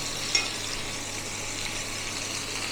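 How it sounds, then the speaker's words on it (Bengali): Chicken pieces for chili chicken fry gently in a pan, giving a steady, even sizzling hiss with one faint clink near the start, close and without talk. "এটা হালকা করে ভেজে নিচ্ছি"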